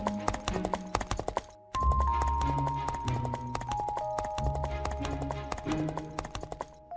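Horse hooves clip-clop in a steady rhythm on a village road at night, loud and close, with a brief pause partway through and a sustained tonal background beneath.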